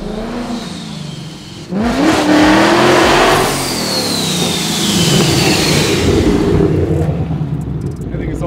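Loud, close revving from a Vortex-supercharged Terminator Cobra track car with about 730 wheel horsepower at a car meet, a deep engine rumble that jumps sharply, then holds and sweeps with supercharger whine.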